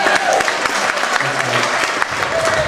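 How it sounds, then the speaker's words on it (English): Wedding guests applaud a helper at the reception, a dense burst of clapping from many hands filling the room, loud and close, with some voices mixed in. "give him a clap too"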